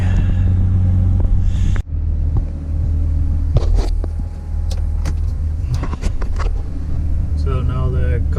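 A BMW E39 idles while warming up, a steady low engine rumble running throughout with a few clicks and knocks nearby and someone speaking over it.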